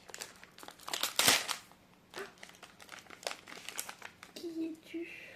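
Close crinkling and tearing of plastic as blind box mystery packaging is worked open, with a loud rip near the start and softer rustling after, while a person talks quietly.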